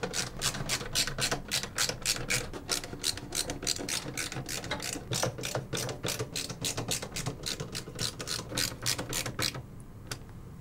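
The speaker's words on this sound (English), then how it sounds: "Secure the motherboard using the screws included with the case." Screwdriver ratchet fastening a motherboard into a PC case with the case's included screws, giving a steady rapid train of close clicks for about ten seconds before stopping.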